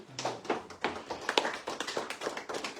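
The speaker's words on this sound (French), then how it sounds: "Applaudissons la parole de Dieu." A church congregation claps in a steady rhythm during a French-language sermon, the sharp claps fairly close and loud, with no talk over them.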